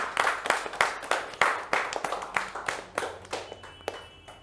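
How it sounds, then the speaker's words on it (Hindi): Audience clapping in a clinic for a polio patient and her family: dense, sharp hand claps rising and falling over several seconds, moderately loud and close, with no speech. "इनके पापा के लिए जोरदार तालियां हो जाएं"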